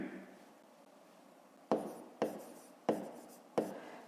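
Pen writing a fifth-grade math solution by hand on paper: a faint scratchy stretch, then four sharp, distinct strokes or taps at a steady, unhurried spacing, close and fairly quiet.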